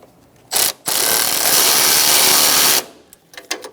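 A ratchet tightens bolts on a 2012-2018 Ford Focus radiator support, giving a loud, close burst of rapid clicking followed by a few lighter clicks.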